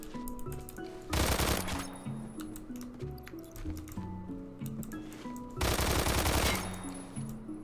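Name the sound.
automatic gun firing in video game Phantom Forces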